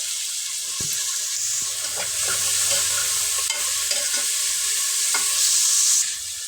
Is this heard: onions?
yes